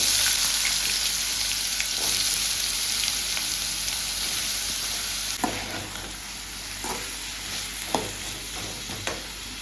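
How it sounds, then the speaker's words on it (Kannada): Potatoes deep frying in hot oil give off a continuous dense, hissing sizzle, close and steady, with a few faint clicks of a utensil stirring near the end and no talking. "ಸೊ ಇದನ್ನೆಲ್ಲ ಡೀಪ್ ಫ್ರೈ ಮಾಡಿಕೊಂಡು"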